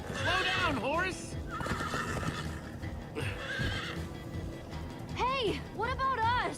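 Horses in the Minecraft Story Mode video game give loud whinnies at the start and end, galloping hooves clopping beneath and character voices talking in the middle.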